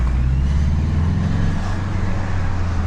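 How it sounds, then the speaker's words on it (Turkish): Steady low engine drone of a lowered Citroen C5 Exclusive, 2.0 litre 163 hp turbo, constant and fairly loud, with a smooth hum and no speech. "Turbonun sesini duymuşsunuzdur diye düşünüyorum"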